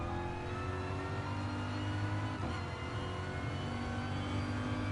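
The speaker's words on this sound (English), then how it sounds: "when you got lower RPMs, the car sounds real low" A race car engine in the Gran Turismo Sport video game drones steadily at low RPM, a continuous loud, even hum with no talk over it.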